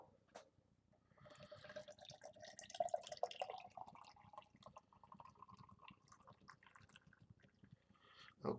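Beer being poured into a glass, a soft, close liquid stream with bubbly trickling and fizz that swells mid-pour and tapers off, quiet overall.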